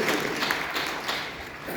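An audience at a Hindi poetry recital (kavi sammelan) at a school in Sonipat breaks into steady, dense applause filling the whole stretch, with faint voices underneath.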